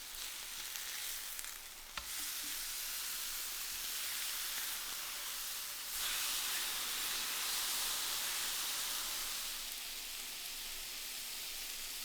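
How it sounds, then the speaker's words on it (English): Steaks sizzling in a hot pan, a steady bright frying hiss close by that stays even throughout, with a couple of small clicks and a slight swell midway. "Now place the steaks in the hot pan and cook for about 5 to 6 minutes, turning every minute."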